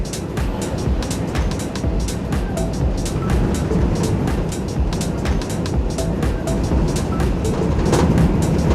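A Volvo FH truck roars at full throttle through storm winds on the road to Glasgow, a loud, continuous rumble of engine and road noise mixed with heavy buffeting gusts.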